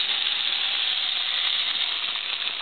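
Wontons fry in hot oil with a steady, loud, close sizzle and hiss that runs unbroken throughout, without any voices.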